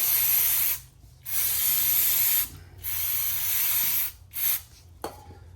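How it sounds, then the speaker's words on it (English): Aerosol cleaner sprays onto the magnet from an F150 6R80 transmission pan in four close, loud hissing bursts of varying length, separated by short pauses, with a brief faint clink near the end. "Get the magnet sprayed off."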